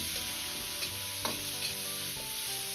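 Marinated green beans stir-fry in a little vegetable oil in a wok, giving a loud, continuous close-up sizzle with a few brief scrapes and clinks as they are tossed, and no voices.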